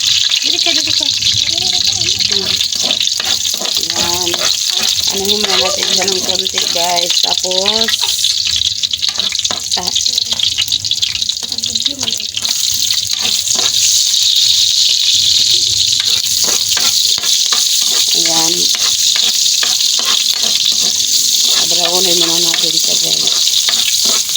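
Garlic frying in a pan, a continuous crackling sizzle running throughout, with a person talking over it on and off.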